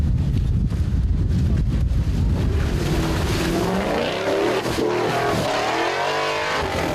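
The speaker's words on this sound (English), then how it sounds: "Russell Hall, Lexus V8, D-Class. What a lovely sound." Lexus V8 engine in a D-Class 4x4 trials vehicle revving hard and close, a loud continuous growl with rising and falling pitch as it labours through holes, wind buffeting the microphone.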